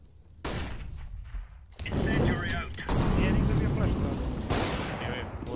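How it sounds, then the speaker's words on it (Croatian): Flashbang grenade going off in a tactical shooter video game, a sharp loud burst followed by sustained gunfire and combat noise, with a player's voice talking. "Throwing flashbang"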